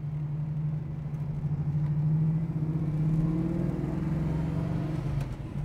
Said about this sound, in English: LT1 Corvette motor running great. Going down the street, right?